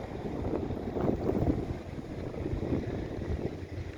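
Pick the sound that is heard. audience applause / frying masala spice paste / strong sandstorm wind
strong sandstorm wind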